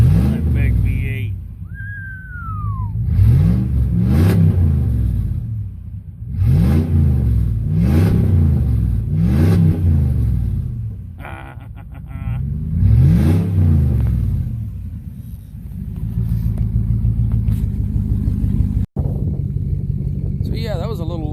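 Big V8 pickup truck revving again and again in a rhythmic series of loud rising and falling surges over a deep idle, up close, with a brief whistle near the start and a steadier drone toward the end.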